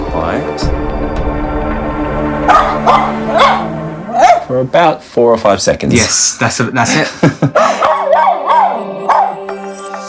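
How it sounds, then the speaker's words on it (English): A stressed pet dog left alone behind a closed door barks and howls repeatedly, with rising wails and sharp barks in an irregular rhythm, heard close with people talking in the room over it. "he's gone from just a little bit of whimpering to barking to howling"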